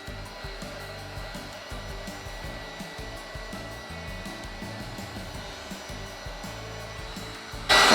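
An electric heat tool blows hot air over a candle during an image transfer, a steady close whooshing hum lasting throughout and swelling into a louder burst at the very end.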